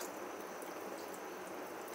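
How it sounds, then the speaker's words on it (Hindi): Water is poured into a cooking pot of chickpea pulao. It makes a faint, steady, even rush with no breaks and no talk. "थोड़ा सा मैं पानी और डाल दूँगी,"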